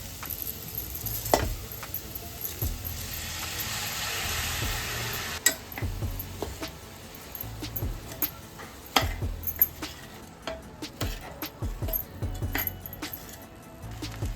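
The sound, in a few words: rice stir-fried with vegetables in a pot for veg pulao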